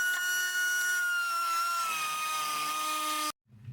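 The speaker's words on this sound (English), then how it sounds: "I'm just going to use a Dremel to, not a Dremel, a die grinder to take out the rest of the material." A die grinder cuts away material from a car part during an LX8 dash swap, a steady high-pitched whine with shifting tone that runs for over three seconds before cutting off abruptly.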